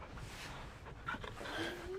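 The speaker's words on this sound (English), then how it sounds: "Dog should always come with us." A dog in Final Fantasy 16 pants quietly and lets out a few faint, high whimpers near the end, soft and close against low background noise.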